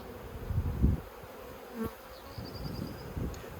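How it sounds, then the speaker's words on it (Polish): A swarm of honeybees buzzes steadily nearby, with occasional thumps and knocks as hive frames are handled and bees are shaken off them. "Strząsam pszczoły."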